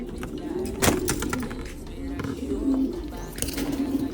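Pigeons, a grizzle and a blue bar being paired, give soft low cooing in short rumbling phrases, heard close among rustling and handling noise while someone talks.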